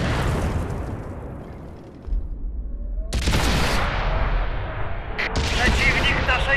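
Tank cannon fire and explosions in the World of Tanks video game: several heavy, booming blasts with long rumbling decay, loud and close, with a sharp new burst near the middle and another toward the end.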